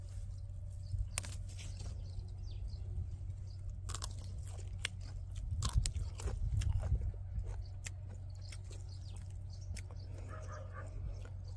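Fresh Acanthopanax (ogalpi) shoots crunched between the teeth, with close, irregular bites and chewing sounds over a steady low hum, growing busiest near the middle of the stretch.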